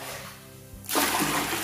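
Cold water from a tap gushes into a bucket partly filled with warm red lemongrass brew, a sudden loud steady pour starting near the end after quieter sounds.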